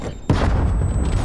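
A grenade in Call of Duty: Cold War detonates as one sudden loud blast, followed by a rumbling, crackling tail.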